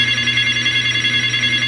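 A middle-sized Nickelodeon telephone rings with an incoming call on a live call-in show, a loud steady electronic tone held unbroken throughout.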